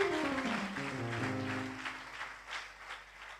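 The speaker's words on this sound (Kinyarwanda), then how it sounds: "Niba uri hano yikomera amashyi" Applause from a church congregation at a prayer gathering, steady clapping continuing after a voice's sustained tone fades in the opening second.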